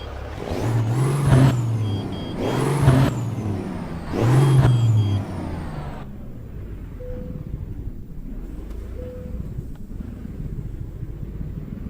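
An old-style truck's two-stroke engine in American Truck Simulator revs hard three times in quick succession, each pull rising then dropping, before settling into a quieter low idle with a couple of brief tonal beeps.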